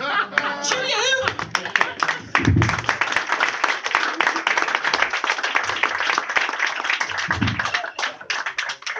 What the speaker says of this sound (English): Give another round of applause for Gertrude Smoot.